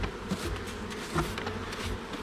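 Honeybees buzzing around an opened beehive during an inspection, a steady close hum with individual bees droning past, fairly quiet and with no talking.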